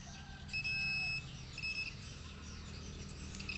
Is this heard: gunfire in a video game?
no